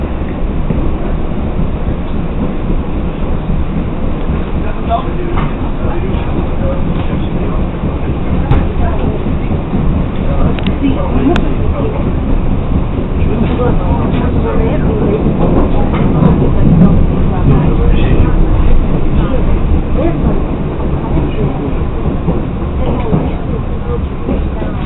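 A Munich U9 subway train sits at a station during rail replacement works, a steady low rumble and hum of the train and platform under a long announcement voice, with faint clicks scattered through.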